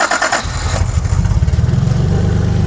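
A 1982 Toyota Celica Supra engine cranks briefly, catches, and settles into a steady, throbbing idle close by, with the rhythmic pulsing continuing to the end.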